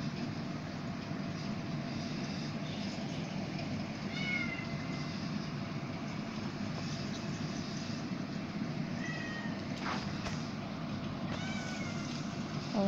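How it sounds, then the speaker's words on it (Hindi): Several pet cats meow faintly in a home, a few brief high cries scattered over a steady low background hum, distant rather than close. "और हमारी बिल्लियाँ भी शोर कर रही हैं"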